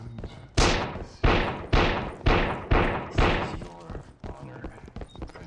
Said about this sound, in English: Shots! Gunshots!